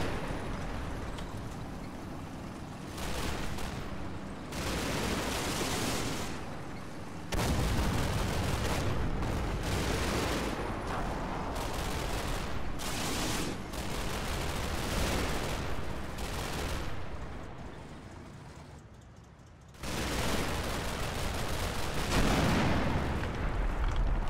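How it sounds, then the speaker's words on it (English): 81mm mortar rounds firing and exploding amid a combat scene from the Combat Mission game, with repeated loud blasts and bursts of gunfire over a steady rumbling background and no talk. "That was an 81mm mortar."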